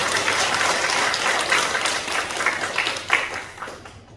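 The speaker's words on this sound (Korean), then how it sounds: "영광의 박수를 우리 하나님께 감사의 박수를" A church congregation claps in thanks and praise during a Sunday service, a moderate, even patter of many hands that fades out at the end.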